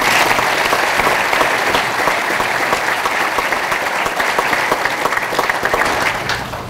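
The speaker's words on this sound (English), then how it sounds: "Let's give them a round of applause." Sustained applause from a commencement audience at a boarding school, loud and steady throughout with dense overlapping claps, tapering slightly at the end.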